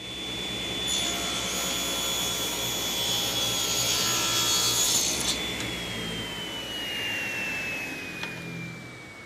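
A table saw fitted with a jig rips through a piece of wood, producing a loud, steady high-pitched whine and grinding cut. The blade sound falls slightly in pitch as it spins down near the end, with no talk.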